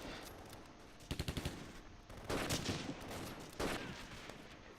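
Gunfire in a Close Combat video game battle against Soviet infantry: a quick burst of machine-gun shots, then heavier rattling volleys and scattered shots over steady battlefield background noise.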